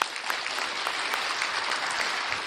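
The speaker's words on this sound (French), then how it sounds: "Je vous demande d'applaudir chaleureusement." Steady, dense applause from a crowd at a corporate anniversary event, continuous clapping filling the whole moment without a break.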